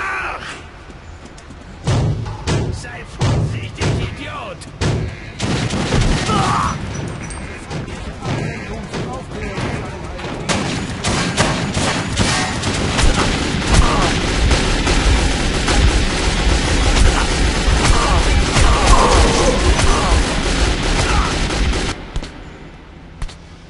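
Gunfire in the video game Metro 2033 rattles off in rapid bursts and heavy single shots, loud and dense for most of the span, with shouting voices mixed in.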